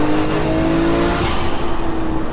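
Nissan R34 GTR with a 2.8-litre stroker engine making 800 bhp, pulling hard under boost in second gear, a loud close engine note rising in pitch and then dipping briefly as it shifts, with no talk.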